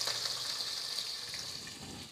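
Two finely chopped onions for dal and rice sizzle steadily in a pan of hot oil, a close, continuous hiss with no talking over it.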